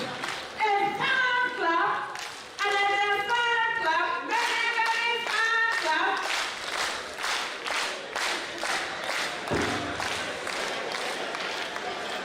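An audience at a national reunion conference claps along in rhythmic bursts while a voice chants over them, the sharp claps growing more regular and crowd-like toward the end.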